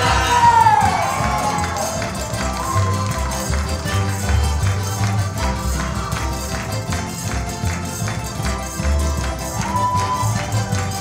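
A live audience applauding and cheering loudly after a Portuguese student tuna performance on Terceira Island, with sustained dense clapping and crowd noise throughout, some whoops above a music-like tone at the start.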